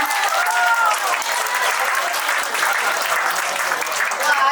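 Guests at a Chinese-style wedding banquet break into close, dense applause that keeps going steadily, with a few voices mixed in among the clapping.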